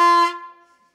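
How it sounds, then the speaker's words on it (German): A plastic fan noisemaker horn blown once, a loud bright buzzing blast that cuts off quickly and fades over about a second, alone with no voices, at a Special Olympics World Winter Games event. "die berühmten Tröten zum Lärm machen"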